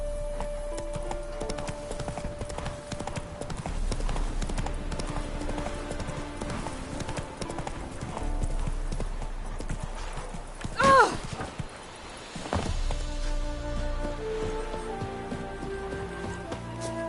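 Geralt's horse Roach in The Witcher, with a steady, rhythmic clatter of hooves close by under faint rain and game ambience. A brief whinny cuts in partway, and the hoofbeats then resume, with some talk mixed in.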